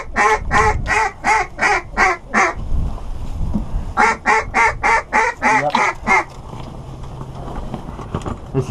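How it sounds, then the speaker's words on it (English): Ducks quack during a snowstorm duck and goose hunt: two rapid, rhythmic bursts of loud, close calls, each a quick string of quacks separated by a brief pause, over steady wind noise. "Oh shit, ducks."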